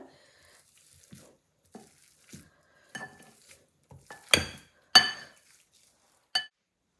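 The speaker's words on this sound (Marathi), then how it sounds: "आता हे स्मॅशरने स्मॅश करून घेऊयात." Boiled potatoes get mashed with a potato smasher in a bowl: a series of sharp, separate clinks and knocks at uneven intervals, the loudest near the end, in otherwise quiet surroundings.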